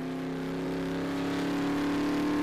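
Car engine revving, a steady close-up hum that builds gradually in loudness over a couple of seconds, heard alone.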